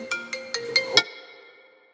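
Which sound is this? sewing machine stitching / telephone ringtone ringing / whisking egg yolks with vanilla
telephone ringtone ringing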